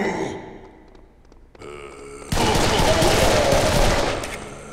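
Shotgun fire from the Serious Sam video game: a sudden loud blast cuts in and stays as a dense, sustained roar of gunfire. Quieter game sounds come before it.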